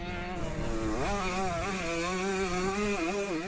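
A 45-year-old Yamaha 125cc motocross bike is ridden hard, its buzzy engine note loud and continuous, rising in pitch and wavering as the throttle opens and eases off.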